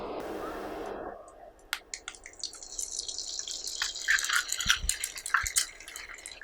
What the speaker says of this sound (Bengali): এই ডিমটা এখন আমি ভেজে নেব।